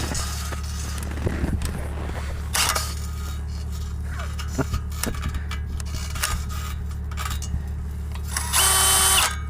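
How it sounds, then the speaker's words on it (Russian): A power drill bores into ice, whirring and grinding steadily close by, with brief clunks and scrapes and a sharper high whine near the end. "Сейчас, ребят, будем сверлить дрелью."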